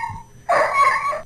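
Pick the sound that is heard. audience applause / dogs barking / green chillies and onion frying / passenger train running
dogs barking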